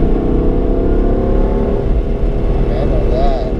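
A BMW M3 F80 accelerates with sharp throttle, a loud sustained engine drone with rising harmonics heard from inside the car, with voices talking over it throughout.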